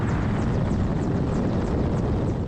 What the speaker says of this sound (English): A pair of Ukrainian helicopters on an assault against Russian forces close to Bakhmut.